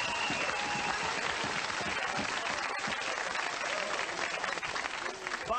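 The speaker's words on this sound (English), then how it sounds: "How about a round of applause for Mr. Bob Lanier and Rick Perry?" Studio audience applause at a 1992 Double Dare NBA All-Star Special game show, a dense sustained roar of clapping with crowd noise, loud and steady for the whole stretch, easing slightly at the end.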